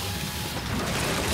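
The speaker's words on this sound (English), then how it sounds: "we have this, the super sucky clue vacuum" A cartoon spy gadget vacuum cleaner runs with a loud, steady mechanical whirring roar that holds evenly throughout, with no talking over it.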